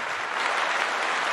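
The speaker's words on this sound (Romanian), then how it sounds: "Aplauze pentru Dan Byron!" A gala audience in Timișoara applauds a performer, Dan Byron, with dense, steady clapping from many hands throughout.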